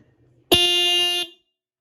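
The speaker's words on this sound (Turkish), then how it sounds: "Duyduğunuz gibi korna gayet güçlü." A single loud, sustained blast from a 12-volt horn powered through a 48 V to 12 V step-down converter sounds for under a second, sharp and close, then cuts off into silence.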